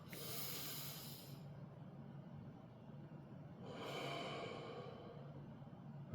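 Two slow, soft breaths exhaled by a single person, each a broad airy whoosh lasting over a second, close and quiet with a pause between them and no talking.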